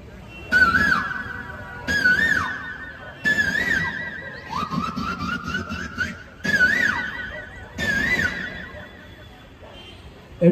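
A performer's voice imitates a cuckoo call, repeating a wavering whistled-like cry several times in evenly spaced bursts, close and fairly loud, with a longer rising call in the middle.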